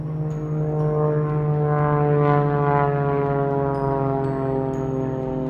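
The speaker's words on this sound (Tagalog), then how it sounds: "Sabay na gawin ang mga tunog ng eroplano para sa miyembro ng pamilya isa." Steady drone of an airplane engine, a sustained humming tone with layered harmonics that holds at an even, fairly loud level throughout with no talk.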